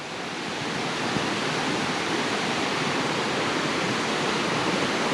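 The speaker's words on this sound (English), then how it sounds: "All right, we're almost at the waterfall." A swollen, raging waterfall in Marin roars as a constant, broad wash of rushing water, loud and unbroken from start to finish with no voices over it.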